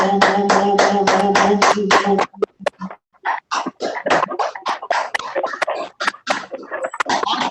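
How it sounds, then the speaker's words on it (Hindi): An audience at a yoga camp claps in greeting, first in fast rhythmic unison over a chanting voice, then breaking into looser, scattered applause that trails off unevenly. "चलिए ताली अभिवादन।"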